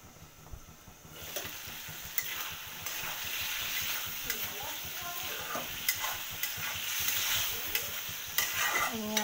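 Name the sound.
flat beans (shim) sautéing in a pan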